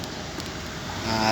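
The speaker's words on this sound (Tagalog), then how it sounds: "Ay, mga sasakyan" Road traffic rolls past as a steady broadband rumble of passing cars, close by and fairly loud, swelling slightly toward the end with no talk over it.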